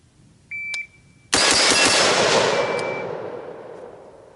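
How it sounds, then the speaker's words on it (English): A shot-timer beep followed by a loud blast of rapid gunfire from a 7.5-inch barrel AR-15 rifle on a range, the sharp reports merging into a long ringing decay. "So now we're going to do ready position, fire 4 shots, 2 seconds."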